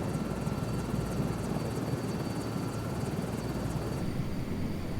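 A Sikorsky S-64 Skycrane helicopter in Microsoft Flight Simulator 2024 cruises near 100 knots over countryside outside Glasgow, its steady loud rotor and turbine drone filling the cabin without a break.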